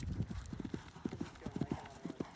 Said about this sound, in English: Just got a nice, light, loose gallop there